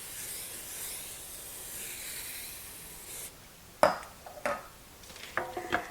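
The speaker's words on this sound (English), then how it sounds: "I'm going to spray the bottom and the sides of it." Cooking spray hisses steadily into a 9-inch springform pan for about three seconds, then gives way to a few sharp knocks and light rattles as the pan is handled.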